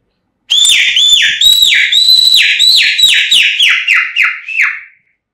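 Finger whistling performed as mimicry of a crying chick: a run of loud, close, high piercing chirps, each sliding downward, repeated in quick succession and slowly dropping in pitch.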